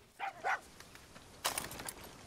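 A dog in the video game Far Cry 6 gives a couple of quick barks, then a louder yelping burst a moment later, fairly faint and close in the game mix.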